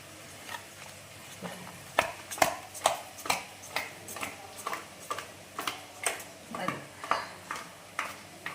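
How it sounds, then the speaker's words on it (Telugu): A spoon stirs a Godavari-style fish curry in a pot with salt, chilli and turmeric, giving a steady run of light scraping ticks and clinks at a regular rhythm over a low sizzling bed. "కలుపుతున్నాను ఇవి వండేలాగా కలిపేసి"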